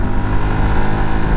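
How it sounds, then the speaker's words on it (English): Low, rumbling engines of three Volkswagen camper buses driving past in a row drone steadily close by, a continuous mechanical growl without any talking. "3 Volkswagen camper buses in a row."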